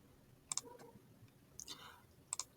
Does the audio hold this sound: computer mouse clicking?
yes